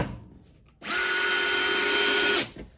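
Milwaukee screwdriver drives a wood screw into a workbench in one steady, close, loud burst of motor whine lasting under two seconds, with a faint clatter before it starts.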